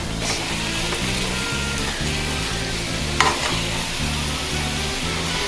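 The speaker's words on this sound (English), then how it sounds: "you want to flip it over and start to scrape off all the brown meat in here" Partially frozen meat sizzles steadily in a hot pan while a spatula scrapes in a repeated rhythmic pattern, flipping and scraping up browned bits, with one brief clank partway through.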